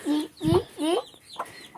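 Chickens and chicks in a village coop cluck close by in a quick series of short calls, three louder clucks followed by softer ones.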